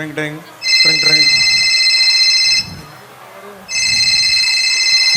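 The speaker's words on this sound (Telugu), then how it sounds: "ఒసేయ్, ఫోన్ రింగ్ అయితే కదా," An electronic telephone ring plays during a school annual day stage skit: two long, bright, steady ringing bursts separated by a short gap, loud, with voices heard briefly before the first ring.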